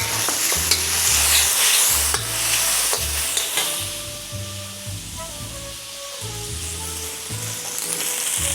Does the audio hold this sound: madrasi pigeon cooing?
no